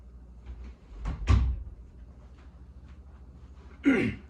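A door being closed indoors: a soft handling rustle, then a muffled thump, and a second short knock or latch sound a few seconds later, all close and fairly quiet, with no talking.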